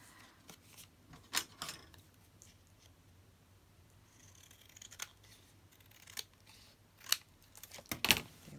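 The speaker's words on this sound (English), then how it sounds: "so I'll have to cut that off" Scissors cut paper for Christmas ephemera in a quiet room, giving sharp, separate snips at irregular intervals with faint handling rustles between them.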